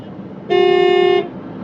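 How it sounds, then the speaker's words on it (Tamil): A vehicle horn gives one short, loud, steady toot on the road, sounding alone for under a second against faint background noise. "ஆரன் சவுண்டு கேட்டுக்கிட்டே இருக்கோம்"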